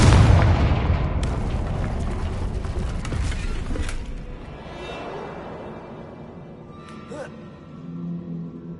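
Confringo spell in Hogwarts Legacy detonating in a heavy, booming blast that opens loud and rumbles for several seconds, then decays into a quieter lingering tail with faint magical tinkles near the end.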